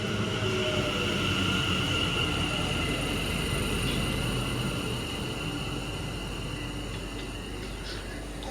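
A Class 730 electric multiple unit, pair of units, passes through Rugby station with a steady, loud broadband rush and rumble that holds throughout, easing slightly toward the end, with no talking.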